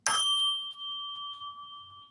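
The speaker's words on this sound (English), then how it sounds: "here I have a lovely set of chimes that were made in Australia that are called the Sonic Geometry" A triangle tone from a Sonic Geometry chime set made in Australia: one struck metallic chime with a bright attack that rings on, clear and sustained, for about two seconds with nothing else heard.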